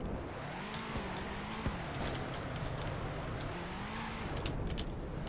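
A steady Venom GT car engine in a driving video game drones throughout, its pitch rising and falling as it revs and shifts, with a brief tire squeal or bump midway; loud and continuous.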